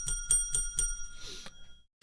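A bell rings four quick times in an even rhythm, bright and close, and then the tone fades out.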